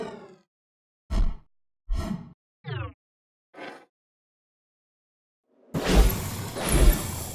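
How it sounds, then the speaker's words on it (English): Designed game sound effects built from a fireball whoosh, glass sounds and can tops dragging on a floor: several short separate swooshes and ringing glassy hits with silence between, then a louder, noisier scraping burst at the end. "It was created with fireball whoosh, glass sounds, and a lot of can tops dragging on floor."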